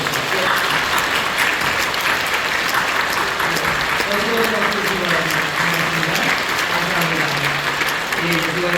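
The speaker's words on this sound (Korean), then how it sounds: "뜨겁게 박수해 주시기 바랍니다." A church congregation applauds warmly at a New Year's Eve service, a steady dense wash of clapping filling the room throughout, with faint voices beneath it.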